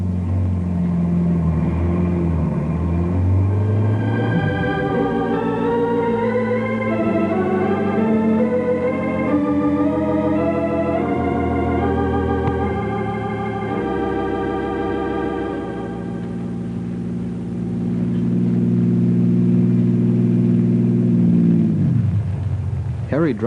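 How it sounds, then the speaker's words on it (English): A car engine rumbles steadily as it drives down a road toward a barricade, its tone rising and shifting under dramatic musical tones, then swelling louder near the end in a radio drama. "Harry drives the car a half-mile down the road."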